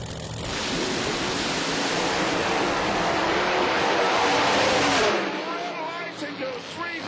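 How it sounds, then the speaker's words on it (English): Drag race cars launching down the track at a PDRA Spring Nationals event, a loud roaring engine blast building and sustained for several seconds before cutting off, with the wash of the crowd and venue behind it. "Final pair of race cars to hit the track and then the jet"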